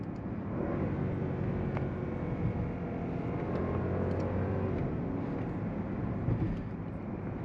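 Mercedes-Benz S560 sedan with a muted twin-turbo V8 pulling through a launch, a steady, subdued low engine drone and road rumble heard from inside the cabin with no sharp exhaust bark.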